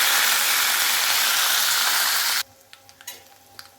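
Garlic cloves, curry leaves and dried red chilies sizzle in hot tempering oil, a loud dense frying hiss that runs steadily, then cuts off suddenly, leaving a few faint clicks and knocks.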